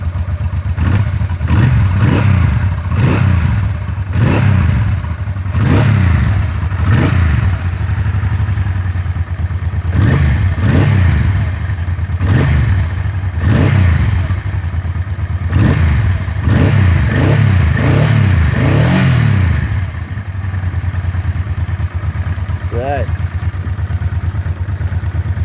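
A Honda CBR1000F motorcycle engine revs repeatedly up close, sharp throttle blips rising and falling over a loud, steady idle in a busy rhythmic sequence before settling back to a rumble.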